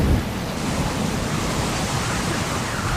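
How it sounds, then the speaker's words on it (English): Hurricane storm roaring with thunder and heavy rain, a dense, steady broadband rumble and hiss at constant loudness throughout, with deep low thunder-like energy and no voices. "These enormous storm systems pack incredible power."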